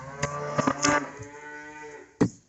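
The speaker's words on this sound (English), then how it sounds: "Cows are running. They think I'm going to forget them." Cattle on a farm moo near the feed barn as they run toward feeding time, several loud, harmonic calls overlapping in quick succession, then a brief pause before another sharp moo near the end.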